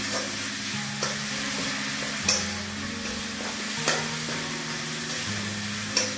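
Pav bhaji masala sautéing in a hot pan, a steady close sizzle punctuated by periodic scraping stirs of a spoon against the pan, with a low hum underneath.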